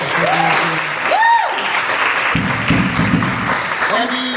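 Audience applause at a live music event, broad steady clapping filling the whole clip with cheering and whoops rising above it, fairly loud and close.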